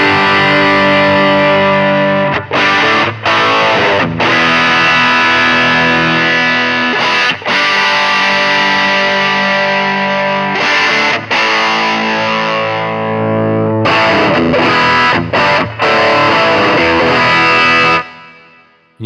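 Distorted electric guitar played through a simulated speaker cabinet, chords ringing loud and sustained with brief pauses, the tone shifting as the virtual microphone is repositioned around the cab; no talking.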